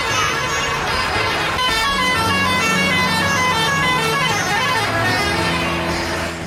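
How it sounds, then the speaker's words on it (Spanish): Car horns honking loudly and repeatedly on a busy road in Rajasthan, India, overlapping tones of several vehicles and a bus amid steady traffic din. "Para abrirse paso hay que recurrir a la bocina"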